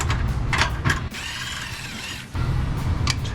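A hand ratchet clicks in quick repeated bursts as it backs out 7/16 bolts holding the coolant recovery overflow tank on a 1996-2004 V8 Ford Mustang, with a brief pause in the middle, close and fairly loud with no talking.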